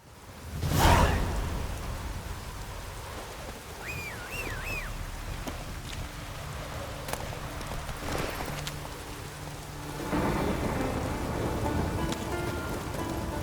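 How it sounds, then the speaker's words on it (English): Steady rain pattering on surfaces in The Witcher 3: Wild Hunt, with a low rumble of thunder early on and horse hooves clip-clopping, some birdlike chirps in between. "Raining."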